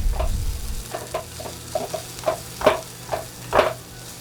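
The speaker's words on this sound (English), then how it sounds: "stir these onions up a little bit" Onions fry in a pan with a soft background sizzle while a utensil scrapes through them in about eight distinct strokes, the last few louder, with no talking.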